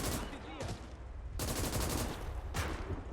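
An MG-34 machine gun rattles off in long bursts in Call to Arms Gates of Hell, WWII Eastern Front combat, moderately distant, with brief pauses between volleys.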